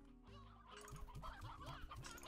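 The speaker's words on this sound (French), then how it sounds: "Genre, il y a plus de poules ici qu'elle." Chickens on a ranch in the Slime Rancher video game cluck in a short series of repeated, close, quick calls over steady background game music.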